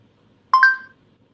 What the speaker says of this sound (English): Speak after the ping sound.